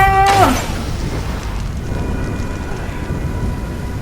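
Rain and thunder in the video game Middle-earth: Shadow of Mordor, heard as steady broadband rainfall with a low rumbling thunder roll behind a brief tonal game sound at the start.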